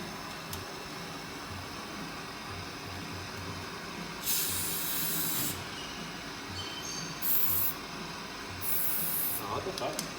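Aerosol curtain track lube sprayed in bursts inside a garage during an R34 Skyline build, three hissing blasts of a few seconds each over a steady background hum.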